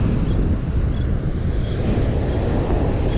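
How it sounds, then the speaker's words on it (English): Steady roar of surf mixed with strong wind buffeting the microphone on a beach, a continuous loud wash with no voices. "And we sure have a windy beach."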